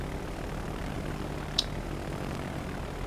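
Carrier aircraft engines in World of Warships Legends, a steady low propeller drone filling the clip at moderate level, with a brief sharp click near the middle.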